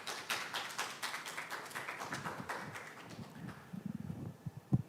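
Applause welcoming a Korea Chamber of Commerce vice chairman to the podium at the 2021 Global ESG Forum: faint, evenly spaced claps for about three seconds, then thinning out into a few scattered taps.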